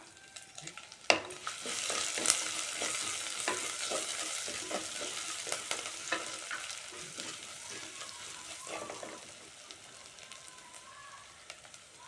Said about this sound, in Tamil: எண்ணெய் காஞ்சதும் நம்ம தாளிப்புக்கு வச்சுருந்த மிளகு கருவடகம் வெந்தயம் எல்லாத்தையும் சேர்த்துடலாம்